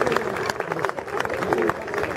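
An audience claps for an honoured official at a service recognition ceremony, with a dense patter of applause mixed with crowd murmur and a speaking voice over it.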